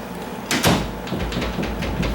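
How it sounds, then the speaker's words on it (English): A Schlage privacy lever door swings shut and latches with a sharp close-up knock and click, followed by a faint rattle and a lower rumble. "I'm gonna go ahead and close the door. I'm gonna see how it latches."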